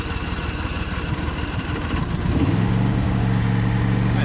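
Riding lawnmower engine cold-starting: a few seconds of cranking churn, then it catches around halfway and settles into a steady, loud, close idle with a constant low drone, no talking.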